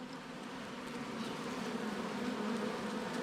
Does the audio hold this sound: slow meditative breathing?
no